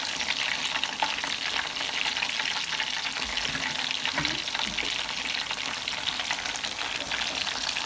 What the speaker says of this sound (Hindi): ये हमारा एक साइड से फ्राई है। अब हम इसके साइड पर पलटेंगे इस अंदाज से।